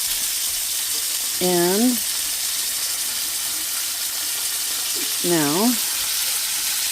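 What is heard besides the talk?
garlic butter fish searing in a pan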